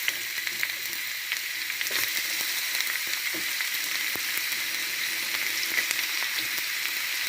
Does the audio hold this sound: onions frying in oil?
yes